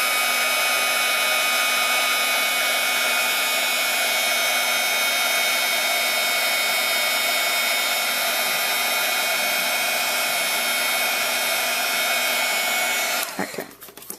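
A heat embossing tool blows hot air onto a Christmas card in one steady, loud, whirring hiss like a hair dryer, running unbroken before cutting off abruptly near the end.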